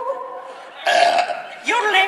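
A person performs a deliberate burp for a comedy audience, two loud, throaty voiced belches in quick succession after a brief lead-in vocal sound.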